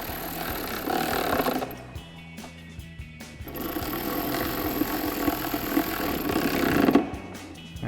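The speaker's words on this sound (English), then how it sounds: "we're gonna take our ratchet with our extension and 10 millimeter socket and a 12 millimeter wrench to hold the stud and tighten that down" Ratchet with an extension and 10 mm socket tightening an intake stud on a Jeep Wrangler JL 2.0L turbo, giving bursts of rapid close mechanical clicking that pause briefly and then resume.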